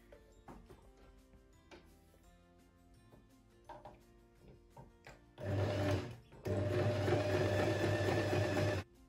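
A Husqvarna Viking H Class E20 sewing machine stitches a straight stitch through fabric, preceded by light handling clicks, then two loud, steady motor runs with a brief pause between them.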